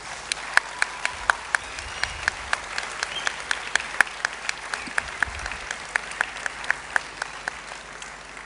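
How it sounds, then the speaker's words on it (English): A large audience applauds at a school annual day event in an auditorium, a dense sustained wash of clapping with sharp individual claps standing out, steady and fairly distant. "These claps of yours are going to ring"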